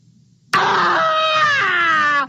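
Scrooge lets out a single loud, sustained scream with wavering, sobbing pitch, breaking off near the end, on a quiet stage set before a dead man's bed.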